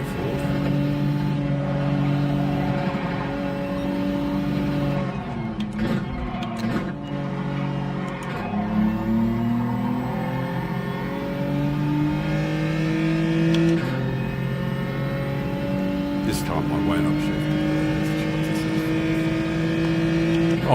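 Race car in Gran Turismo 7 running through its gears: a steady, loud engine whine and drone that climbs in pitch, drops at shifts and climbs again, alone without talk.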